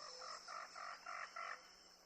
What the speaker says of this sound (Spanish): se escuchan los primeros sonidos envolventes de faisanes, guacamayas, loros